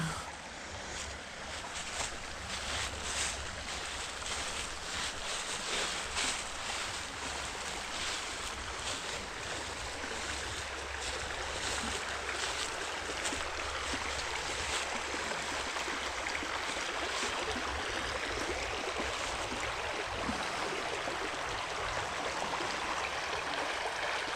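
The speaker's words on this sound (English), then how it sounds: "I was going to get a little closer to the river." A river flows steadily nearby, giving a continuous broadband rush of moving water that stays even throughout with no voices.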